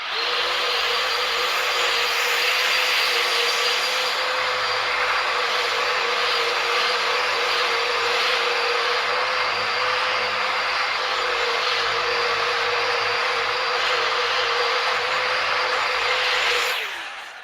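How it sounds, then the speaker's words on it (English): A Bauer heavy-duty surface conditioning tool with a polycarbonate pad grinds steadily against a cabover truck frame being prepped for paint, a loud continuous high whine with abrasive hiss that runs for about sixteen seconds before winding down. "I bought this Bauer heavy duty, I don't know, it's a surface conditioning tool and it's got one of those polycarbonate pads"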